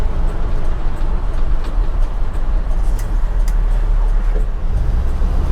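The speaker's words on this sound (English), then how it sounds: "Let's get this thing out on the open road and let's get it up to some speed here." A 1985 GMC C1500 Sierra pickup with a 4.3 liter V6 accelerates on an open road, its cabin filled with a loud, steady low engine and road rumble.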